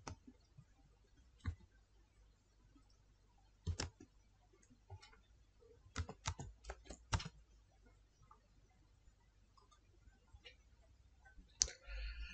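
Scattered keyboard key clicks as text is typed into the Google Chrome search bar, a few isolated taps and short bursts spread across a quiet background, fairly faint and close.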